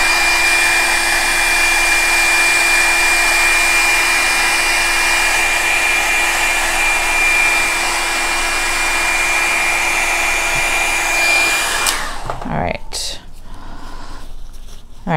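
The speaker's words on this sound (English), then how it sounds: "Next time I'm going to try blowing it around more with the dryer." A hair dryer drying alcohol ink on a cup blows steadily and loudly with a constant whine, then switches off near the end, leaving faint handling noises.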